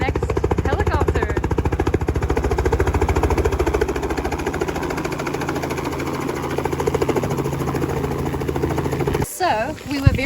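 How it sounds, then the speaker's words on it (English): Loud, close rotor thumping of a small helicopter in a rapid steady rhythm with engine whine, cutting off abruptly near the end. "hop into the next helicopter"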